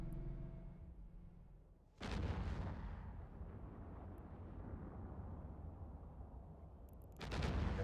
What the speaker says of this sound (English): These guys are gonna start shooting at me.